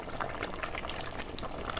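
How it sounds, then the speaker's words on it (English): A pot of water boils over an open fire, giving a steady, close bubbling and hissing with scattered pops and gurgles, no voices. "you can see the pot just boiling away"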